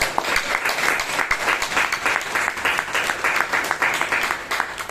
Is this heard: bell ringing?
no